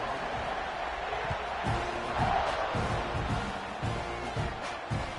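A stadium crowd in the NCAA 26 football video game roars steadily at kickoff, a dense wash of cheering with scattered thumps throughout and no clear pauses.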